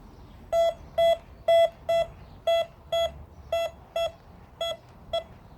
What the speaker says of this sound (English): if I turn this detector back on